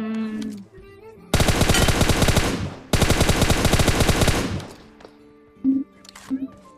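Rapid automatic gunfire in a mobile shooting video game, two long sustained bursts of loud, dense shots separated by a brief gap, followed by a few quieter thumps and game sounds.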